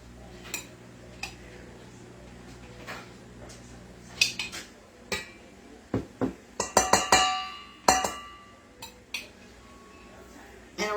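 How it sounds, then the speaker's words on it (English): Food is stirred around in a pan, giving sparse metallic clinks and scrapes that build into a busy cluster of sharp knocks midway. The sounds are close and separated by quiet gaps. "Let's stir it up and get all them bits around."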